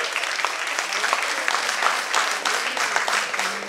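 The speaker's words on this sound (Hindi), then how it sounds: "जोर से ताली दीजिए प्लीज." An audience applauds steadily for a man being honoured after a stage play, a dense, fairly loud patter of many hands that holds for several seconds, with a little talk faintly beneath it.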